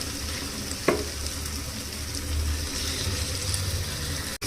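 Half a kilo of chicken frying in hot oil with masala, a steady close sizzle broken by a single sharp scrape of a spoon early on, with no talk.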